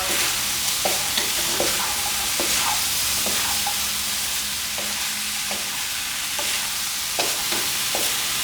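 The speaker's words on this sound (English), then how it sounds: "Toss it nicely while it's on high heat. Let the shrimp get that delicious coating of all this flavor." Salt and pepper prawns are tossed in a pan over high heat, giving a steady loud sizzle broken by repeated scraping clinks of the utensil against the pan, close up and with no talking.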